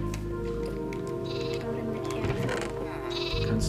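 Sheep bleating in the Minecraft video game, repeated wavering bleats heard clearly over steady game background sound.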